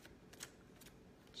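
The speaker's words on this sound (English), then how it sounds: "I don't think I've ever had to shuffle this long." A deck of tarot cards being shuffled by hand, with soft papery riffles and a few brighter snaps over a quiet room, close and fairly faint.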